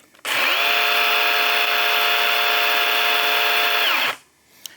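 A cordless electric chainsaw, its bar and chain not yet oiled, runs loud and steady at full speed for about four seconds, with a high whine over a motor hum, then spins down and stops.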